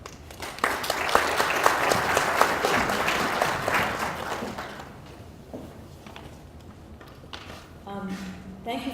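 Audience applause at a Tamil Heritage Month celebration, dense clapping from a crowd for the first five seconds, then thinning out into scattered claps and a few voices before a chirpy electronic tone near the end.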